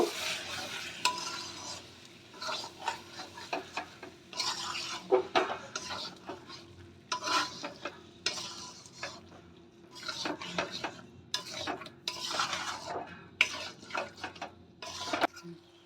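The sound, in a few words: stirring yogurt into chicken curry in pan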